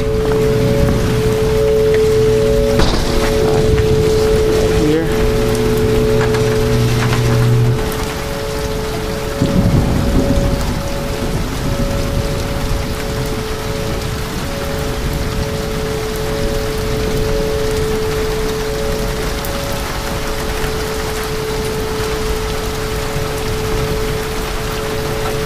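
Heavy rain and thunder during a supercell storm near a house in St. Louis, Missouri, a loud continuous downpour roar with a deep rumble of thunder early on, steady throughout and no talk.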